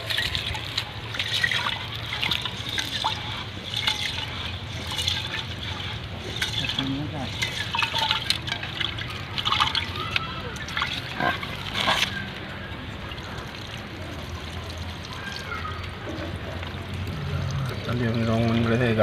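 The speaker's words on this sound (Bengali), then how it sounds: "ভাতের জন্য চালটা ধুয়ে নেওয়া হচ্ছে।" Rice is washed in water for cooking, with close, continuous sloshing and pouring sounds and intermittent trickles, and a voice can be heard faintly underneath.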